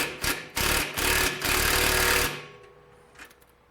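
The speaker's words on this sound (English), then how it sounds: "take your socket, your ratchet, and go inside and start backing out just a little bit" A socket ratchet backs out bolts on a bed frame, giving close, loud bursts of rapid mechanical clatter followed by a fading tail and a few faint knocks.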